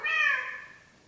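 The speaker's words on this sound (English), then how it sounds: "Even my cat's excited." A cat gives a single short meow, loud and close at first, then trailing off quickly in a fading tail.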